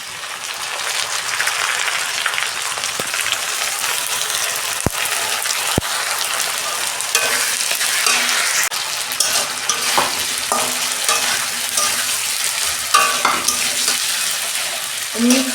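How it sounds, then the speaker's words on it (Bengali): Ginger garlic paste fries with already fried taro and onions in a pan. A continuous sizzle is broken by scraping stirs and occasional sharp clicks of the spoon against the pan. "2 চামচ আদা রসুনের পেস্ট দিচ্ছি।"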